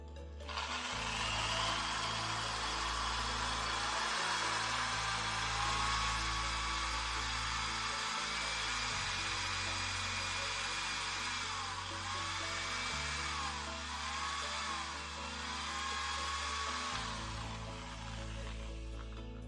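A handheld power drill bores a hole through a ceramic tile, running continuously for about twenty seconds. The motor whine is loud and close, shifting in pitch as pressure varies, with no talk.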